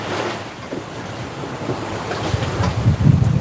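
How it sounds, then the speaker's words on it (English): A sailboat's sail flaps and snaps in the wind while underway in the Banda Sea, with gusty wind buffeting and wave and water rush around the hull, loud and close, with no talk. "Wow, the sail snapped."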